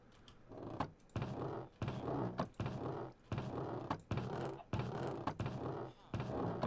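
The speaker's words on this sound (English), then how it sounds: "I love that creaking sound" Repeated creaking in Minecraft, about nine evenly spaced swells roughly every seven-tenths of a second, each with a sharp onset and a rough, grinding body, moderately quiet and heard alone.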